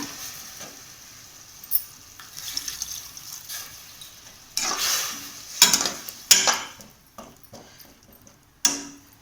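Water is poured into a simmering pumpkin and groundnut gravy in a hot pan, giving bursts of sizzling and splashing with faint utensil clinks between quieter gaps.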